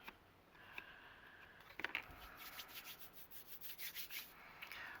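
Faint close-up rubbing of excess glue off paper, a soft scratchy friction that begins quietly and grows into quick repeated back-and-forth strokes, with no talk.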